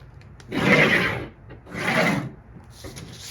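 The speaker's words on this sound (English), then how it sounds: "Draw that new line." A pencil draws two long strokes across a paper sewing pattern while the shoulder and bust lines are being moved, each a soft, close rasping scrape with a short pause between.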